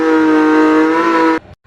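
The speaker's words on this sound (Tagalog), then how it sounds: "Itotodo ko na itong silyador." A new motorcycle engine revs hard at full throttle, a loud close steady droning whine held for over a second before cutting off abruptly into near silence.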